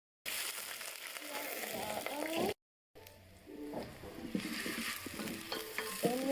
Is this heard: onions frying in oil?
yes